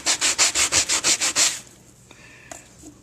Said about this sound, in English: I'm just going to quickly sand these so you can see what the finished product looks like.